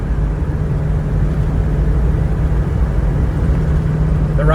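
A 40-year-old 1984 Jeep Grand Wagoneer cruising at about 55 mph, with a loud, steady low engine drone and road rumble heard from inside the cabin, unbroken throughout.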